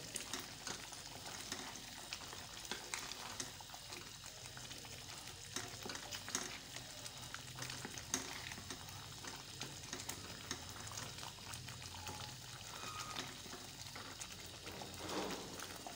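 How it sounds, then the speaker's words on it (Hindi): Chicken karahi ingredients fry together in a handi, giving a steady close sizzle with scraping stirs throughout. "सब चीज़ें ना फिर इकट्ठी भून लेते हैं।"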